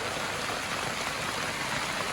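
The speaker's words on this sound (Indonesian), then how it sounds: "kita masih nunggu hujan di sini." Steady rain pours down at an island homestay, a dense even hiss of drops on surfaces with no break and no voices.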